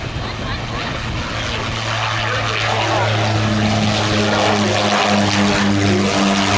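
A propeller military transport aircraft flying past at the Duxford air show, a loud droning engine roar with steady propeller hum, close and sustained, while an announcer talks over it.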